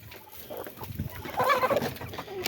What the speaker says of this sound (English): Sorry, we're feeding the chickens.